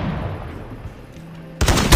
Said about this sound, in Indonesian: Dia nge-sniper. Dia nembakin aku.